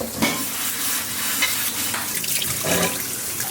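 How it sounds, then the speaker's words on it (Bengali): Onions and chilies sizzle and crackle in hot oil for a Bengali bhorta, with a utensil stirring and scraping through the pan at close range; running water also hisses in the background. "ভর্তার জন্য পেঁয়াজ মরিচ আমু ভেজে নিচ্ছে"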